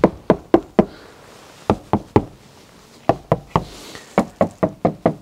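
Knuckles rap on an insulated van body panel in quick groups of three to five firm, dull knocks separated by short pauses, close and clear with no talking.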